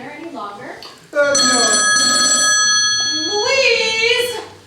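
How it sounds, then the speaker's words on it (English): A telephone bell rings loudly and steadily for a few seconds, with people speaking just before and after it. "Isn't that where the phone rings?"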